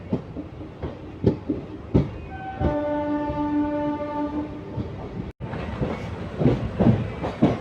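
Kalka–Ambala passenger train running on a single-line section with a slight uphill grade, sounding a long horn blast over rhythmic clacking wheels and loud rumbling carriages; the horn cuts off abruptly and the rumble continues.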